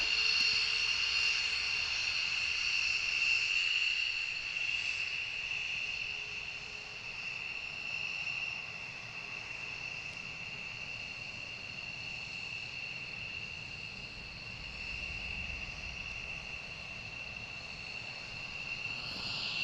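Military jet engines starting up far off at RAF Lakenheath, a faint steady high whine and distant roar holding on throughout, with no talking.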